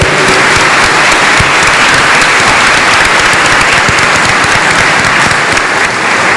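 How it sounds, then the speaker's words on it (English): Loud, dense applause from a convocation audience for the Parkland College Wind Ensemble, a steady wash of many clapping hands that holds at full strength for the whole stretch with no break. "let's give them a big round of applause anyway"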